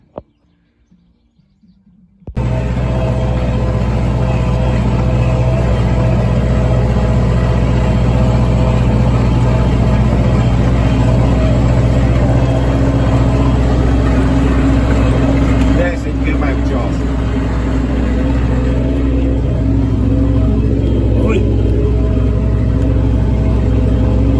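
An MTZ-892.2 tractor engine runs with a loud, steady low rumble and drone heard from the cab, starting abruptly after a brief quiet moment and continuing unbroken, with faint chirps over it.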